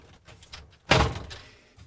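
A Samsung refrigerator's vegetable drawer cover pushed into place on its supports, a single sharp plastic thunk midway with a brief rattle after, close and alone over quiet handling noise.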